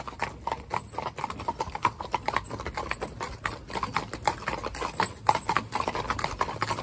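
Hooves of a green four-in-hand team of draft horses clip-clopping on a road at a walk, in a steady overlapping rhythm, fairly close, with a voice talking now and then.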